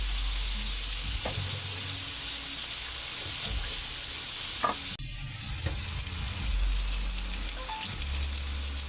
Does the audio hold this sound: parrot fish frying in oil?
yes